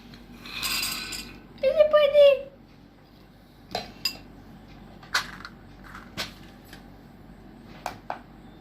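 Food being served onto a plate at home, a series of sharp utensil taps and clinks against dishware, spaced out and close, after a brief burst of a voice.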